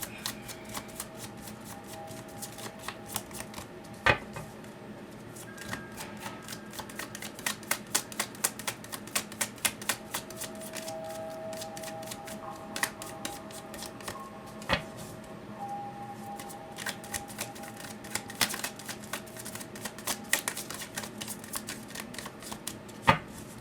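Tarot cards shuffled close up in a steady stream of quick, crisp flicks and riffles, with a few louder snaps scattered through the long run and no talking.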